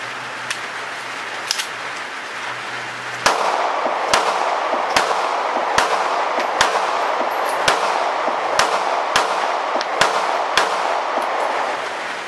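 A Sig Sauer P365 pistol fired at an outdoor range, a string of sharp loud reports at an uneven, fairly steady pace with brief gaps, over a constant background hum.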